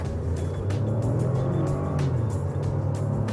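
A 2012 Ford F-150 EcoBoost pickup with a V6 engine accelerates with a steady, loud engine drone and road rumble heard from inside the cab, with no talking.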